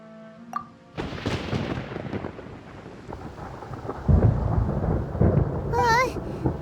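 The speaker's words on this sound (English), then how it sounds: "Paimon hears thunder!" Rolling thunder from a Genshin Impact storm, a loud broad rumble building after a brief musical chime and swelling again toward the end, with a sparkling game effect at the close.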